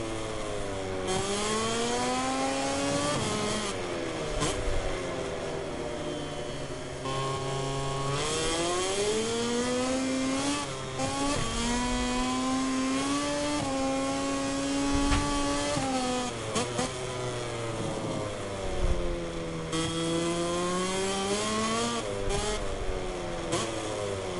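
A KTM Tech 3 MotoGP racing motorcycle in a video game screams through repeated rising and falling revs as it shifts through gears, a loud, continuous, high-pitched engine drone with sharp sweeps between throttle changes.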